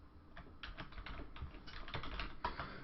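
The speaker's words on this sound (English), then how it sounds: "I'll type in mountains" Keystrokes tapped out on a computer keyboard in a quick, uneven burst of clicks, close and fairly quiet, with no voices.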